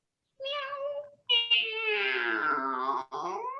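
A storyteller at a library story time imitates a cat with two drawn-out meows, the second longer and sliding down in pitch, heard close and clear.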